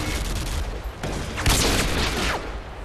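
Sniper rifle fire in a Call of Duty match: a few sharp shots with a heavy crack near the middle, over constant game noise and background clatter, fairly loud and close.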